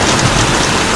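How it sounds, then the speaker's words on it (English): Tropical rain falls outside after a long dry season in Indonesia, a dense, steady hiss of heavy rainfall with no break. "Look at the rain, a tropical rain outside."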